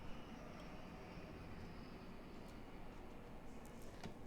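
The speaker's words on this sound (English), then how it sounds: "Ignore the planes flying overhead again" A distant airplane drones steadily overhead as a faint broad rumble, continuous throughout, with small handling noises close by and no talk.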